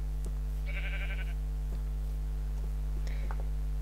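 Free-range sheep in the Minecraft video game bleat twice, each a short wavering call, over a constant low electrical hum.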